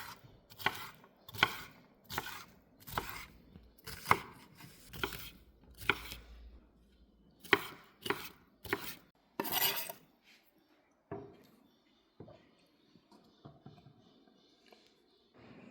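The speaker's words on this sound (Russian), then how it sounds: "Начинаем резать. Вот так вот, прям на кубики старайтесь резать." A knife chops a bell pepper into cubes on a cutting board, a steady run of sharp, close thuds, then lighter, scattered cutting taps toward the end.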